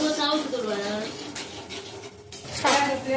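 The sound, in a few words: steel plates being handled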